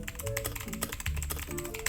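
Someone types quickly on a cheap mechanical keyboard, producing a dense run of sharp clacky keystrokes at close range with no voices.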